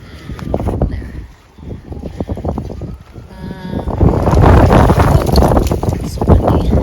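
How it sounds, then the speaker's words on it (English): Gusty wind buffets a microphone outdoors in a garden during rose potting, swelling into loud roaring bursts with intermittent rustling and scraping. "It's windy."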